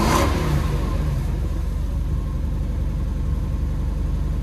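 A stock Lexus SC300 with a small downpipe starts from cold and revs, the engine loud and close with a smooth, steady idle rumble after an initial burst.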